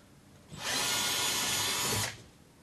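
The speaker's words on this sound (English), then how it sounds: "Take your drill with your 5mm drill bit." A power drill fitted with a 5mm bit whines in one steady burst of about one and a half seconds, close and loud, boring a hole while a linen cupboard is installed.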